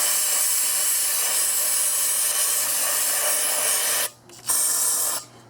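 Brake cleaner spraying from an aerosol can onto intake parts of a 2001 Infiniti QX4 during cleanup, a loud continuous close hiss that stops briefly near the end, then bursts again and cuts off.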